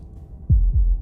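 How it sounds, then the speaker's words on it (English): Two deep, heavy heartbeat thumps in the video game Slay the Princess, evenly spaced and booming close up against a low ambient hum, with no speech. "That was the sound of a heartbeat, followed by another"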